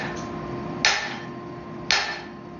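A forging hammer drops onto a steel anvil and rebounds, two sharp ringing metallic strikes about a second apart, each leaving a short decaying ring over a low steady hum.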